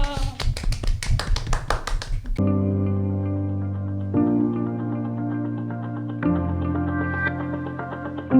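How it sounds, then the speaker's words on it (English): A quiet golf clap during a podcast interview gives about two seconds of light, rapid close claps, followed by sustained musical tones. "A golf clap."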